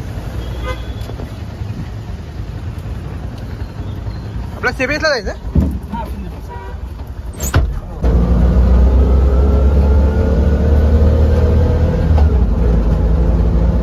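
Auto rickshaw ride through city traffic in Kolhapur, with a steady engine drone, passing vehicles and car horn toots; a person talks over the road noise, which grows louder and closer in the second half.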